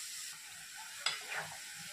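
Boiled cabbage gets stirred into a sizzling tempering in a pan, a faint steady frying hiss with one sharp scrape of the spoon partway through and a softer one after.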